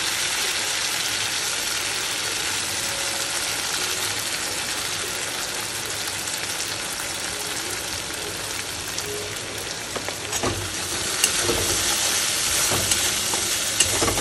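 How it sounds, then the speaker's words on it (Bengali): A spice paste fries in a pan with a steady, dense sizzle that runs throughout, and a few scraping knocks near the end as it is stirred. "ভালো করে কষিয়ে নেবো মশলাটা"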